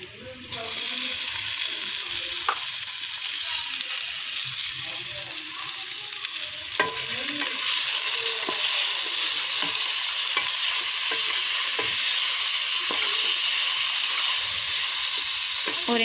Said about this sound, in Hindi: ज़ीरा ऐड करने के बाद हम इसमें जो हमने टमाटर काटे थे वो ऐड कर लेंगे।